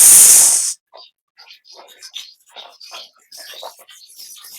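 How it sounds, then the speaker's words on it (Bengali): Onions dropped into hot oil give a loud, bright hiss that lasts under a second and cuts off sharply, followed by quieter scattered crackles and pops from the pan. "তেলটা দিয়ে দিছি, এখন দিয়ে দিব পিঁয়াজ"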